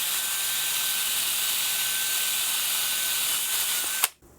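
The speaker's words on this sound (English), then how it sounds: "I've got a soft cotton buff on the little drill mandrel" A small rotary drill fitted with a soft cotton buff on a mandrel, polishing a guitar, whines steadily at high speed with a thin, constant tone and hiss, then abruptly stops with a brief clunk.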